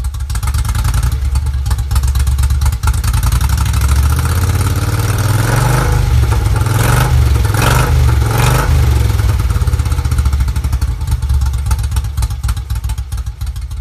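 A 1972 Moto Guzzi 750 Ambassador motorcycle engine runs loud and close with a deep, steady idle rumble and mechanical clatter, swelling briefly midway before settling back.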